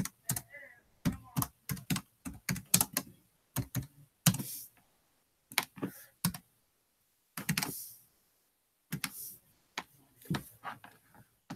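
Someone types on a computer keyboard that doesn't work well, with quick, close bursts of clacking keys broken by short pauses and occasional single strokes.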